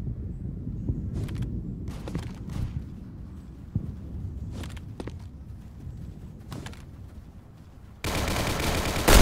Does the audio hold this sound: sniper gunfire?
yes